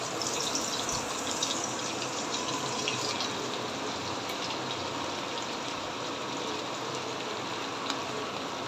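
Onions frying in hot oil in a pan for pulao give off a loud, steady, dense sizzle that holds even throughout, with no talking.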